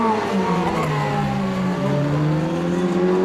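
Ligier and Wolf race cars battling at Spa-Francorchamps, engines loud and close with high whining tones that slide down in pitch as they pass, a continuous roar with no talk.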